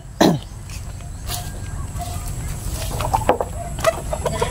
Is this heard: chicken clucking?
yes